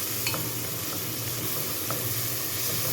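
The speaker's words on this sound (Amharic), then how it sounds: "እዚህ ሽንኩርት እንዲጠበስልኝ በማለት እጠብሰዋለሁ ማለት ነው።" Onions fry in a pan for an Arab dish, giving a steady, loud, close sizzle with faint crackles and no talk.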